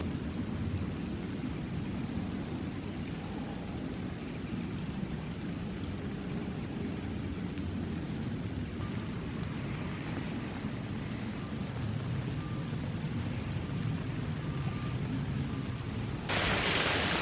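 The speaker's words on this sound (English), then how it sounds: "it's really starting to rain heavy here now" Heavy rain pouring through woodland at a bushcraft camp, a dense steady hiss of drops on leaves and ground, continuous and fairly close with no talking.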